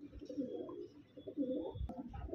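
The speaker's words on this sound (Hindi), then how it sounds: "बाबा धन्याड़े कबूतरों में से कबूतर हैं ये" Baba Dhanyade breed pigeons coo in low, throaty, repeated rolls close by, with a few brief chirps mixed in.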